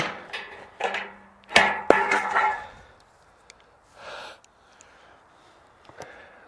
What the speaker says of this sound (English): This is the absolute worst thing, cutting metal with tin snips.